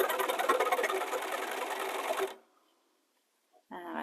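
A sewing machine runs a straight stitch on a shirt, a fast steady mechanical whir for about two seconds before stopping abruptly, followed by silence and then a brief burst of motor noise.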